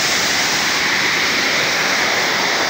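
Balagbag Falls in Mahaba, Real, Quezon roars as water plunges into its pool, a loud, steady, broadband rush with no break and no voices.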